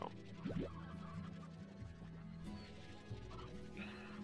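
Chickens in the Slime Rancher video game cluck and scratch, with a few short squawking bursts over a steady low game background, fairly faint throughout.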